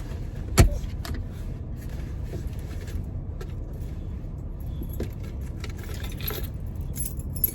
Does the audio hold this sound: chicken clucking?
no